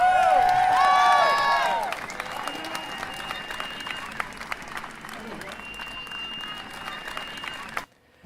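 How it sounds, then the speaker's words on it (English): A recorded audience-cheering sound effect: a crowd roars and applauds, with shrill whistles at the start, then settles into a steady, moderately loud cheer that cuts off sharply at the end. "We found some sound effects of an audience cheering, and let's just take a listen to that."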